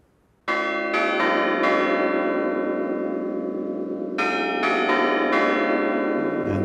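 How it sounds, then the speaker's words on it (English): Big Ben's last midday chime in London: loud, ringing bell strokes in two clusters with long overlapping resonance that sustains between strikes, starting after a brief quiet moment. "To let you listen to the entirety of this last midday chime for some time."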